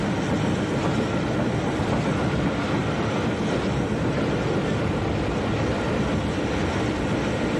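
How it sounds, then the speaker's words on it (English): An electric train and a steam train hauled by a Baltic tank engine run side by side on a Southern railway line, giving a steady, loud rumble of wheels and engines with no break and no voices. "The electric train bearing the filmmaker soon catches up with that hauled by the"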